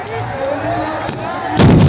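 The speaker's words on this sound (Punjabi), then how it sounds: "ਬੜੇ ਜ਼ੋਰਾਂ ਤੇ ਫਾਇਰਿੰਗ ਹੋ ਰਹੀ ਆ" Distant rumbling background gives way to a sudden heavy gunfire blast near the end, loud and booming, amid cross-border shelling.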